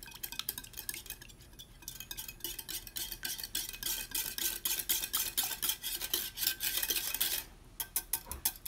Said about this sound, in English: a cup of honey and a cup of the marinade that we reserved from yesterday. Just going to whisk this.